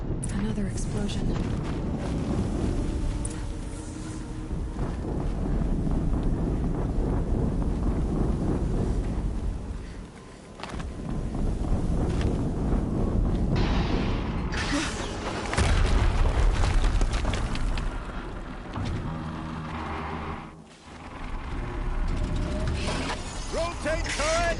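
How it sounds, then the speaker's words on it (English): Loud, sustained video game battle noise from Horizon Zero Dawn, with booming explosions and crashing debris that swell and dip across the span, brief lulls near the middle and end, and a voice talking over much of it. "Another explosion."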